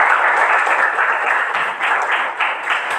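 A classroom of students gives a brief, steady round of applause, a dense patter of many hands clapping together.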